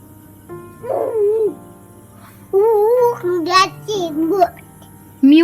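A young child imitates a dog, giving a few short, high, yelping bark-like calls in quick bursts, close and fairly loud, with quiet pauses between them.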